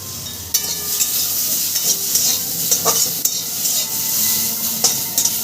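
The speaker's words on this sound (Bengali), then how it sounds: "আমি এবার এটা ভাজা ভাজা করে নেব" Mango chutney with salt and turmeric sizzles steadily in a pan, and a spoon stirs and scrapes against the metal in repeated clinks throughout.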